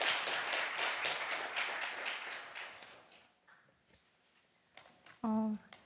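Audience applause welcoming a lawyer to the stage at a Korean guardianship conference special session: dense, steady clapping from a crowd that gradually thins and fades out, followed by a brief tone near the end.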